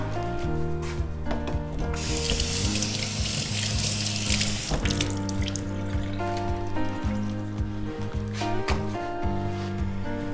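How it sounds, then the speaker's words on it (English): White and green beans rinsed under a cold kitchen tap, with steady running water splashing into a sink and occasional knocks and rubbing of the beans, continuous and close, with no talking. "And we're using cold water for rinsing"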